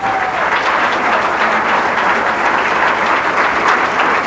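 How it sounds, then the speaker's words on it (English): Steady applause from the crowd at a women's athletics hall of honor ceremony honoring a 2001 class, dense and continuous clapping filling the room throughout, with no voices over it. "How about one more round of applause for our class of 2001?"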